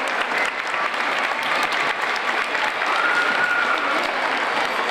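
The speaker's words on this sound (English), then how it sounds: "let's just give our teachers a big round of applause for their planning today" Parents and grandparents at a preschool Derby event applaud the teachers, a steady, dense wash of clapping from a sizable crowd that holds at full strength for several seconds.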